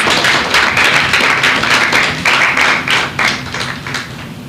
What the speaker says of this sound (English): Can we please give a round of applause for our competitors?